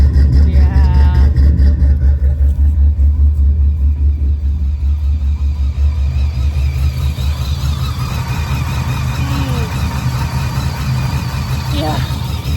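Engine of an abandoned Pontiac GTO, freshly revived after sitting, runs at a loud, steady low rumble throughout, with voices talking over it.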